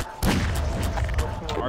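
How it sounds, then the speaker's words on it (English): Pulse rifle gunfire in Garry's Mod: dense rapid bursts of loud, booming shots close up, with a voice talking underneath. "Pulse rifle."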